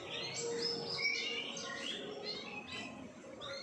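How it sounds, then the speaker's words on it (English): Pet finches and two female canaries sing indoors, a dense mix of bright chirps, twitters and trills that overlap continuously at moderate loudness. "I've got my finches up here, 2 female canaries."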